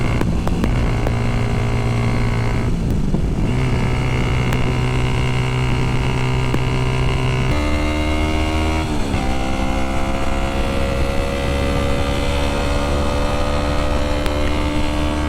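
Kawasaki ZX6R motorcycle being ridden, a loud steady engine drone with rising and falling pitch as it shifts through gears and changes speed, dense wind noise throughout, no talking.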